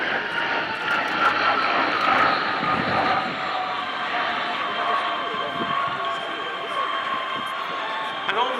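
A Breguet Atlantique 2 patrol aircraft flies an underside pass at an air display, its engine drone steady and strong throughout with a broad roar, while a commentator talks over it.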